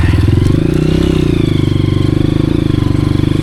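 A Honda CRF 230F dirt bike runs in first gear on a mountain trail, its single-cylinder engine thumping loud and close with a steady, throbbing low drone and slight rises in revs.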